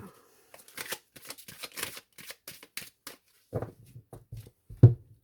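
Tarot cards are shuffled in quick, close papery riffles and flicks, then cut into piles with a few soft thumps near the end.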